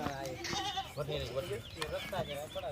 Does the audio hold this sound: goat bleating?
yes